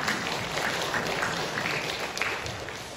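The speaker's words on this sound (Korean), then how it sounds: "우리 좋으신 하나님께 박수로 영광을 돌리십니다" Steady applause from a church congregation at a Sunday service, dense and even throughout without pause, filling the sanctuary.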